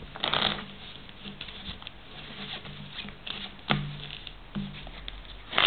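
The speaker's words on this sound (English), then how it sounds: "Now we shuffle the card again." Playing cards are riffled and shuffled up close in several short bursts of crisp, fluttering patter separated by brief pauses.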